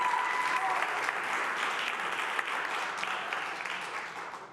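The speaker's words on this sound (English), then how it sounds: "I want to applaud the TPM Summit organizers before I go any further" Sustained applause from a conference audience at the TPM Summit for its organizers, a steady dense clapping wash that gradually tapers off near the end.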